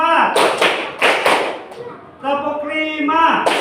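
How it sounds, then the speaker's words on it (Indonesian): A classroom group claps in a rhythmic pattern, with several loud sharp bursts of claps. A voice chants the count between the bursts. "tepuk 1, tepuk 2, tepuk 3, tepuk 4"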